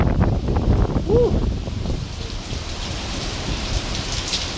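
Heavy rain during Hurricane Irene hisses steadily while gusts of wind roar over it, and a voice is briefly heard early on.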